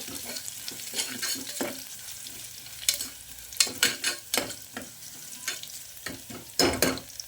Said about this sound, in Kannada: ಬೆಳ್ಳುಳ್ಳಿ ಇದು ಸ್ವಲ್ಪ ಫ್ರೈ ಆಗಬೇಕು